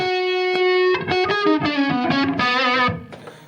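An electric guitar played through a compressor pedal into an amp, switched on and off: one loud sustained note rings alone, then a run of bright, sharply attacked picked notes follows before fading.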